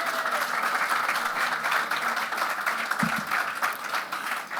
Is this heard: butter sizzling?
no